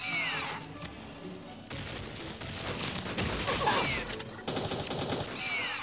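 Loud bursts of rapid gunfire from a weapon in the mobile shooter game Pixel Gun 3D, rattling in dense fusillades separated by brief gaps, with metallic mechanism clatter and game effects mixed in.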